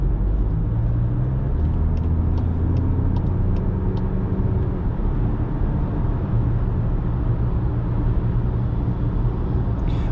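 A Volkswagen Tiguan R-Line SUV cruises on the road, heard from inside as a constant deep rumble of tyre and engine noise with a faint rising engine tone, steady and loud throughout.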